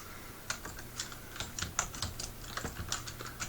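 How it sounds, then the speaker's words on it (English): Fingers type steadily on a computer keyboard, a quick, close run of light clicking keystrokes with small irregular pauses and no voices. "you just type in Language Arts."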